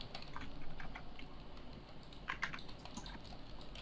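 Computer keyboard keys tapped rapidly during an arena game, a dense stream of close clicks with a brief louder burst near the middle.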